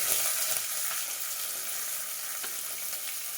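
Crushed garlic fries in hot oil for a chicken curry, making a steady, bright sizzle with faint crackles and an occasional light stir, and no voices.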